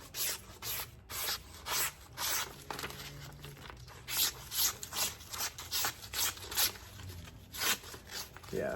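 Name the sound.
sharpening a knife blade on a Wicked Edge sharpener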